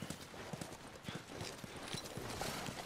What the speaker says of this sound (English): You guys have horses. We got a whole lot of them.